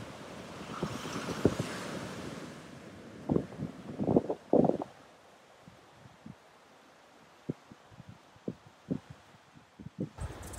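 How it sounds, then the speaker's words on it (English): Ocean surf washes onto the beach at Half Moon Bay National Park, Antigua, soft and distant under light wind, broken by a few scattered thumps and knocks. "Very beautiful beach."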